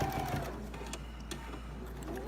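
Sewing machine running close by while sewing a decorative stitch with a circle and straight-line guide tool, giving a steady mechanical whir with light rhythmic clicking, briefly joined by a voice at the start.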